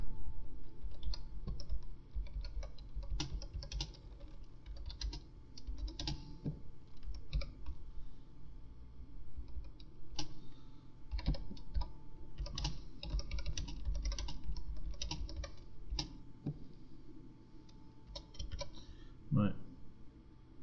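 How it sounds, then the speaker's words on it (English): Rapid clicking of fingers typing on a computer keyboard, steady and close, with irregular bursts of keystrokes continuing throughout amid faint background hum. "You can probably hear me typing."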